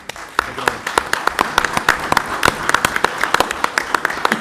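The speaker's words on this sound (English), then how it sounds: "I think she deserves a round of applause." After a presentation at a council meeting, the room gives Norma a round of applause, a steady patter of many hands with sharp individual claps standing out close by, continuing evenly throughout.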